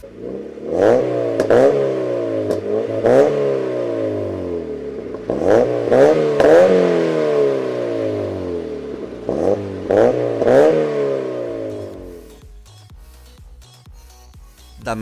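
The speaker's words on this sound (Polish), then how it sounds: "Mamy jeszcze dźwięk silnika, posłuchajcie" A car engine revs again and again, rising and falling in quick bursts with short lulls, loud and close, ending in a calmer idle rumble.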